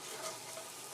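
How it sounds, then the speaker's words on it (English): Steady, hissing sizzle of potatoes frying in a hot pan, close and continuous with faint crackles throughout. "See, it came right back to sizzling."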